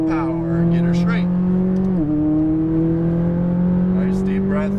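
Lamborghini Huracan Performante engine accelerating on a track, a loud, close tonal drone that dips briefly in pitch, likely a gear change, then climbs steadily; a voice talks over it at the start and end.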